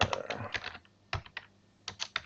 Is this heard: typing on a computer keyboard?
yes